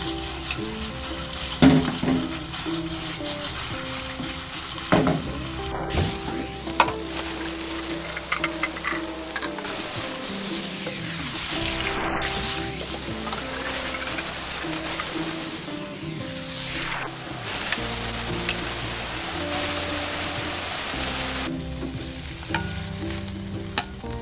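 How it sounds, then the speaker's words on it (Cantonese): Marinated minced pork stir-fried in a wok, for a dish with edamame: loud, continuous sizzling with repeated swells of hissing and scraping as the meat is tossed and stirred. "我哋炒香呢啲醃好嘅肉碎。"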